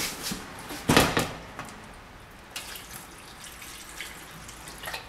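A tap turns on with a clunk and water runs briefly in a sink while making an avocado peach mint smoothie, followed by quieter splashing and a few soft knocks.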